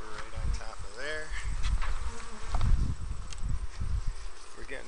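Honey bees buzz during a beehive inspection as goldenrod comes into bloom, a constant close hum of many insects with a person talking over it.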